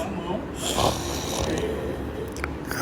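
A person imitates snoring with a voice, drawing out rough, breathy snore-like sounds over a couple of seconds at close range.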